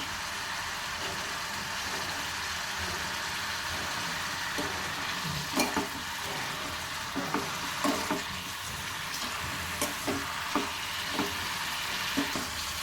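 Ridge gourd chutney mixture with salt and turmeric is stirred in a pan over a constant low sizzle, with a series of spoon scrapes and taps in the second half; no talking.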